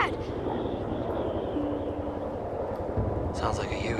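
A Huey helicopter drones faintly in the distance as a steady low rumble outdoors, heard under quiet voices, with a brief higher-pitched sound near the end.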